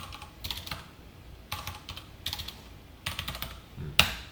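Typing on a computer keyboard during a Java coding session, with irregular clusters of quick, close key clacks separated by short pauses and a sharper final keystroke.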